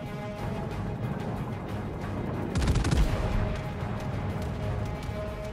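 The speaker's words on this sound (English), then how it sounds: "Should be able to get one more salvo out." A warship's main guns fire a salvo in World of Warships Legends, a loud booming burst of overlapping blasts rising over continuous engine and ambient game rumble, then fading into a rolling tail.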